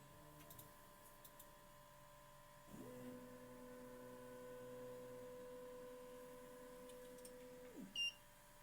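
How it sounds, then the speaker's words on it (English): A 3D printer hums quietly while initializing, then its motors whir in steady tones for several seconds before a short beep near the end. "Now we're initializing the 3D printer."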